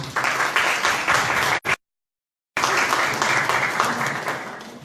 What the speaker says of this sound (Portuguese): Uma salva de palmas a todos e todas.